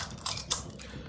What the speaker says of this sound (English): All I hear is a squeaky hammer behind me